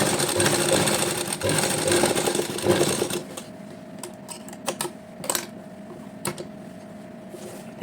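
A sewing machine stitches a heavy Patiala salwar in a steady mechanical run for about three seconds, then stops, leaving a quiet room with a few faint clicks and taps.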